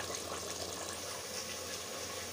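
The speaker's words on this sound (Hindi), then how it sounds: "चावल पे हम ठंडा पानी इसलिए डालते हैं" Cold water poured over boiled rice for a beef Sindhi biryani, a steady rushing splash of liquid that runs continuously and fairly loud without any talking.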